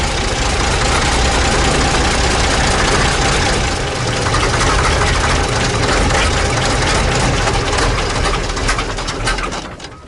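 An old gravity-fed diesel engine on a long-abandoned machine runs in a loud, continuous rough rumble close by, steady for several seconds before easing slightly at the end, with no talk.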